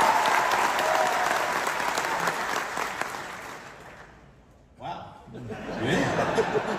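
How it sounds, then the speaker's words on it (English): A crowd at a faith-and-family talk applauds a contestant with loud, sustained clapping mixed with cheering and laughter, fading briefly before a fresh burst of applause swells back up. "By applause, okay?"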